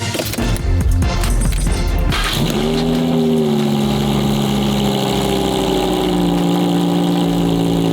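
A car engine cranks and catches, with a brief rev, then settles into a steady, loud, close idle hum, no talking.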